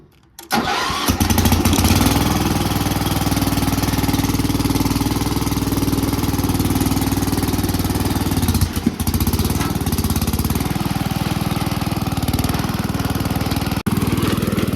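A loud Wheel Horse riding lawn tractor engine starts up and runs steadily close by, droning with a constant rough rumble throughout.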